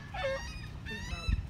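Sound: waterfowl honking near a lake, likely swan

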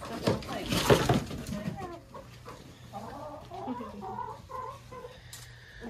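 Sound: chickens clucking

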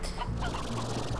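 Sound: hens clucking in video game Slime Rancher

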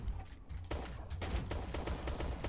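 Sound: gunshots in Shell Shockers video game

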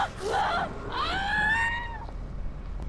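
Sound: enemy screaming in video game Dead Island

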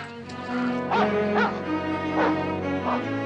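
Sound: dog barking

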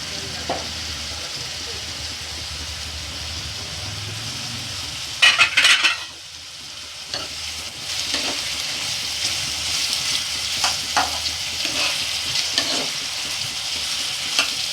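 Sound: green chillies and tomatoes frying in chicken curry pan

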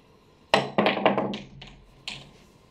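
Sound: pool cue ball jump shot

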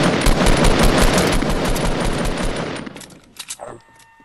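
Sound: gunfire in the video game Fortnite

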